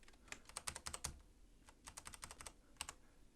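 Computer keyboard keys are pressed in quick bursts of crisp clicks, a rapid cluster, a pause, then another flurry and a final few taps, close and fairly quiet.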